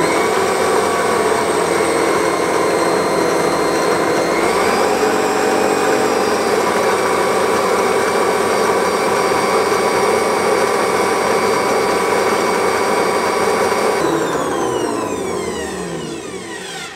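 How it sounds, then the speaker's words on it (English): Stand mixer whisking egg whites at medium speed for a lime pie meringue, a steady loud motor whir with a beater hum that shifts slightly partway and then winds down as it stops. "the bowl of a stand mixer, and I'm going to whisk those on a medium speed until they reach just about soft peak stage."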